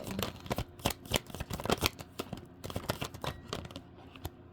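Tarot cards being shuffled by hand, a rapid series of crisp riffling slaps and flutters with a few cards spilling out, close and fairly loud with no talking.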